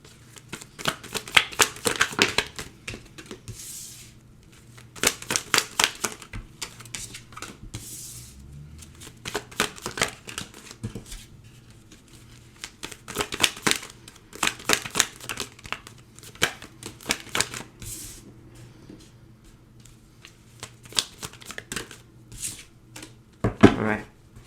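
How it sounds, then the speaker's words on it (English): A deck of traditional tarot cards being shuffled close by, with repeated rapid riffling bursts and soft card slaps over about twenty seconds, separated by brief pauses. "I'm going to pull some traditional tarot cards here."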